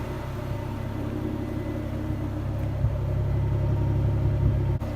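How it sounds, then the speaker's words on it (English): A Mazda RX7 FC drift car fitted with a 1JZ engine idles with a steady, deep, close rumble that holds an even level throughout. "It has a decent sounding idle."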